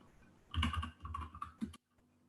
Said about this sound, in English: Typing is terrible.